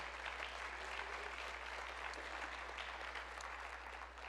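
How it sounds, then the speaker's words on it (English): A room at a university opening session breaks into a round of applause after news of a new program's seven-year accreditation, the clapping steady and dense throughout, with a constant low hum beneath. "So definitely a round of applause"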